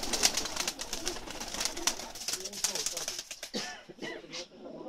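Pigeons at a Pakistani pigeon keeper's loft coo softly nearby in soft repeated calls, mixed with rustling and light clatter, while people talk over them.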